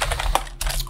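Keys clatter on a computer keyboard at a terminal during a penetration-testing session, with a fast, steady run of close, crisp keystrokes and no voices.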